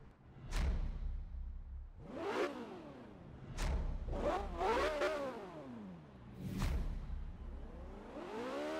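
A Porsche engine in Forza Horizon 3, a car rated at 345 km/h, revs hard through a series of rising gear pulls and sharp upshifts. The revving is loud, close and continuous, with no talk over it.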